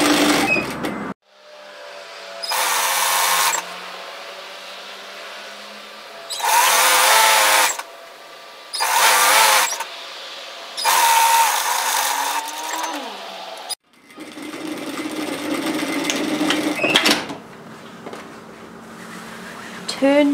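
Sewing machine stitching a robe seam, several loud bursts of rapid stitching a second or so long, separated by short pauses and followed by quieter handling noise.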